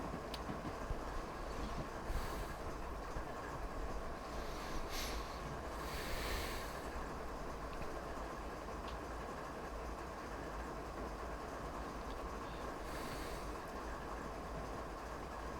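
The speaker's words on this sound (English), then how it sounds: "But that is a pretty nice train way out there." Freight train rolling downhill across Marias Pass toward Whitefish in Train Sim, a steady low rumble of wheels and rail noise with a few brief hisses early on, no talking.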